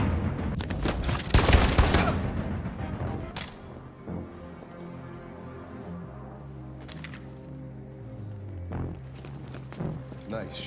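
A gunshot in the video game Detroit: Become Human, heard as a sharp, loud burst near the start, followed by quieter footsteps, a few later clicks and talk.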